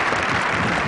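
Crowd applause fills the air during a cardinal's funeral homily for a pope, a dense, steady clapping from a large outdoor congregation, loud and continuous through the brief moment.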